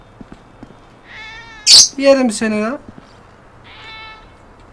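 A cat in the GTA V video game meows a few times, short tonal cries heard between and beneath a man's loud, excited talking close by.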